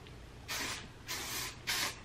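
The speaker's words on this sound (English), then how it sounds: "I just put my hair back and I do a little spray" Hairspray from an aerosol can hisses onto curly hair in three short, even bursts with brief quiet gaps between them, close and clear.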